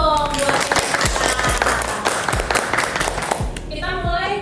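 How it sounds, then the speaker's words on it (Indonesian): An audience claps steadily for a company's sales team for several seconds, with a voice talking at the start and again as the clapping fades. "Tepuk tangan dulu dong buat mereka."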